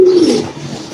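Doves in a pigeon loft give a soft, close cooing call, a single low note that slides downward and fades within a second.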